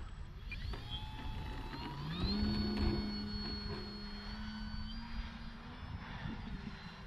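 An OMP Bighorn radio-controlled airplane flying on an electric motor: a steady buzzing whine that climbs in pitch and swells after a couple of seconds, then holds as it passes at a moderate distance, with faint wind noise.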